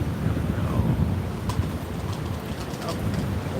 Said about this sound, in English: Oh, it is a windy day down here.